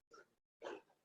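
Two brief, faint barks from a dog in the background, separated by a short silence, the second a bit louder.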